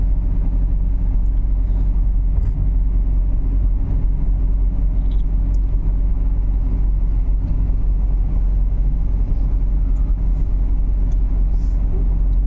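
Heavily loaded vehicle stacked with sacks drives along a road at about 55, giving a steady loud low engine rumble and road noise throughout, without talk.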